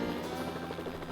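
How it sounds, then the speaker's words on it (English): A helicopter flying over the Kimberley's Mitchell Plateau produces a steady, droning rotor and engine roar, loud and continuous, with no voices heard. "it was time to head back to the chopper for another hair-raising ride back to camp."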